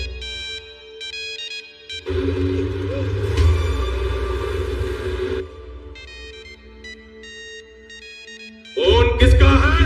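A mobile phone ringtone plays as a repeating electronic melody. Low rumbling background noise runs throughout, and voices come in during the middle and again at the end.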